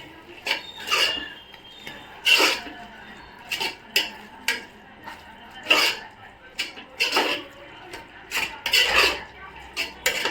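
A spoon and ladle scrape and clink against a pan while masala is stirred into tomato rice, sounding as a series of short, bright metallic scrapes in uneven bursts, fairly close, with no talk over them.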